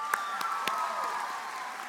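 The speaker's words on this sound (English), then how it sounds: "can we give ourselves a round of applause?" Graduates clap together at a high school commencement, a short burst of crowd applause with a few sharp individual claps, moderately near, fading slightly toward the end.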